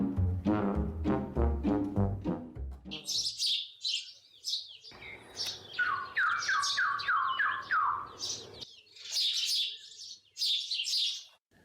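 Birds chirp and sing outdoors in a village, bright repeated trills and rapid tweets from several birds, fairly close and clear, alone without talk.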